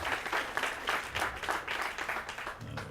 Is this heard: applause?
yes